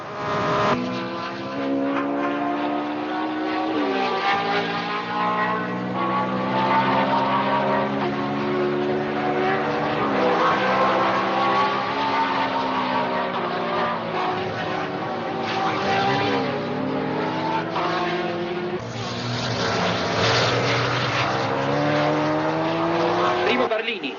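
1966 Formula One race cars sweep around the banking, loud engines howling continuously as several cars pass, their pitch swooping and dipping as each one goes by.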